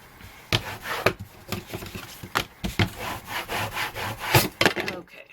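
A big burnisher rubs firmly over paper while a Christmas house papercraft is assembled, giving loud, close, scratchy strokes in an irregular rhythm of quick bursts with no talking.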